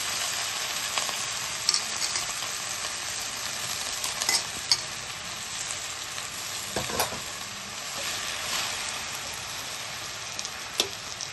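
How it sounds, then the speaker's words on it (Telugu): Washed gongura leaves fry in hot oil for a pachadi, giving a continuous soft sizzle and hiss with occasional sharper pops and stirring clicks, close and steady without any talk. "ఈ ఆయిల్లోనే గోంగూర వేపుకుందాం"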